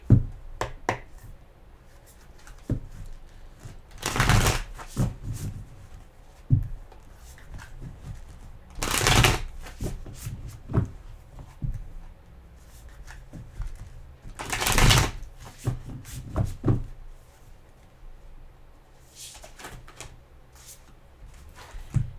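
A deck of playing cards being shuffled during a tarot reading, with three loud riffling bursts spaced several seconds apart amid quieter handling clicks and taps.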